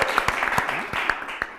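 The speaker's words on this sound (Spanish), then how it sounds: "Un fuerte aplauso para Cristóbal Montoro" A late-show studio audience claps for a special guest, with sharp individual claps standing out over a thinner, uneven patter, short and fairly close.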